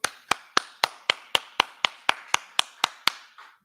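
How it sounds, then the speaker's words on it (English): A steady run of about thirteen sharp, evenly spaced hand claps at a Thanksgiving history class in San Antonio, close and crisp, with no voices over them. "All right, clap it up."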